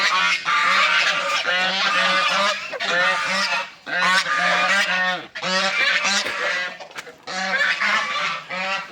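A flock of farm ducks kept indoors in a shed, calling loudly and almost continuously in overlapping honking quacks close by.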